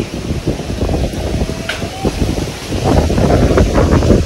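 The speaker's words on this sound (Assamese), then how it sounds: "ধুমুহা বতাহ চাওক কেনেকুৱা হৈ আহি আছে" Strong storm wind roars steadily across the microphone with heavy buffeting in hilly country, growing louder toward the end, no voices.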